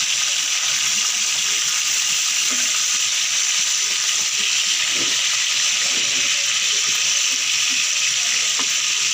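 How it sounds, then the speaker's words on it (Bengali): Rice sizzling and frying in a pan for Saudi kabsa, cooked outdoors in wind, a steady broadband hiss continuing throughout with faint clicks and scattered background sounds underneath. "আর এই তো এটা এখনো ভাজা হচ্ছে।"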